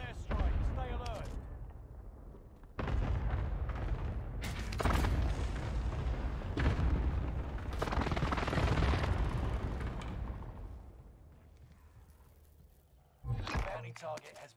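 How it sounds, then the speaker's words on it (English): Cluster airstrike explosions in Call of Duty Warzone on Fortune's Keep, a long rumbling barrage of heavy booms rolling in waves then fading, followed by a final burst. "Cluster strike arriving."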